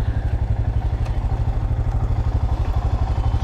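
A motorcycle engine runs steadily at a petrol pump, with a loud, even low throb and a faint mechanical clatter throughout.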